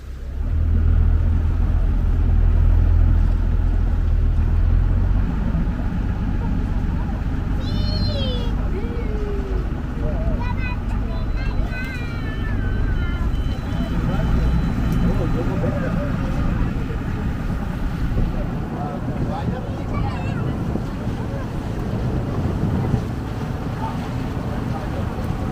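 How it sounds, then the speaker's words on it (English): A ferry crossing over open water carries a steady low engine rumble and wind buffeting the microphone, with voices and faint higher calls scattered through the long, continuous noise. "Ferry is about 15 minutes."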